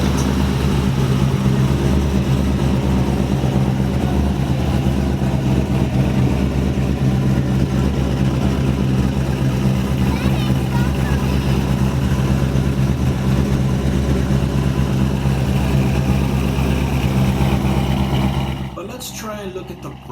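Steady, loud engine rumble and exhaust drone from a modified car at a car show, holding continuously for about eighteen seconds before dropping away abruptly at the end.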